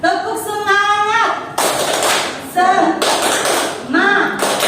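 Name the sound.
class doing the 'tepuk semangat' clapping chant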